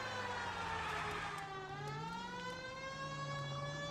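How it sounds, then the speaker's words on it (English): A 1940s police car siren in the video game L.A. Noire wails continuously in a loud, steady rising and falling tone, mixed in with engine and road noise and heard without any talking. "we'll turn the sirens off now"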